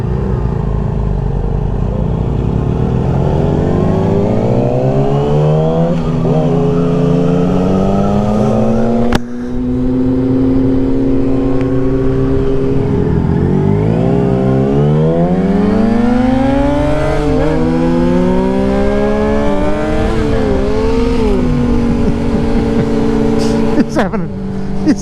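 A heavy, torquey British motorcycle revs steadily while ridden, its engine tone climbing and falling through gears, close and loud with brief speech over it.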